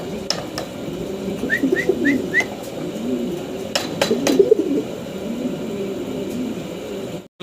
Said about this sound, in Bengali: আমরা আরও এক পেয়ার মডানা কবুতর আপনাদেরকে দেখাচ্ছি